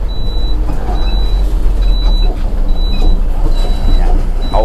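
An IVECO 10-wheel, two-axle fire truck with a 370-horsepower turbo-intercooled engine runs steadily at 4,000 rpm, a loud continuous rumble with a faint intermittent high beeping over it.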